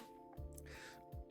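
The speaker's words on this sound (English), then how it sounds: "if you keep hearing me grunting like that, it's just me clearing my throat" A person grunts twice in short, low, throaty bursts while clearing their throat, with a faint steady hum underneath; the voice sounds rough and a little hoarse.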